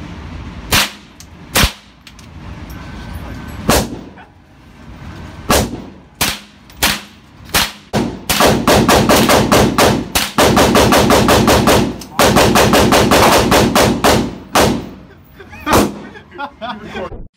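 Gunfire in a shooting video game, starting as scattered loud single shots, then running into long sustained automatic bursts, close and punchy, with some talk in the background.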